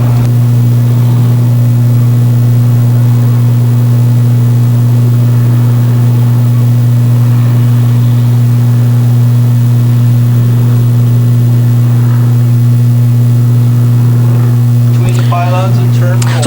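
Sportsman stock cars at Can-Am Speedway droning together under caution, a loud steady multi-engine hum with strong low tones, voices faint near the end.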